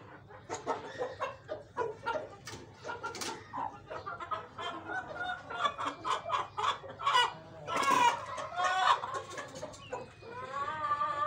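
Hen, mother of chicks, clucking repeatedly in short irregular bursts close by on a farm, with other fowl calls and a rooster-like crow mixed in; little talk.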